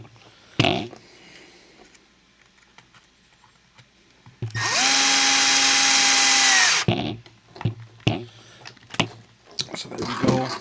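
A cordless power driver whirs for about two seconds, driving a screw plastic-into-plastic on a Traxxas Mini Slash RC truck, with a pitch that bends as it seats; handling clicks and taps come before and after.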